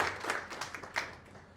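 Faint, distant applause from an audience at a biopic trailer launch event, a steady patter of many hands with a few louder bursts, brief and fading.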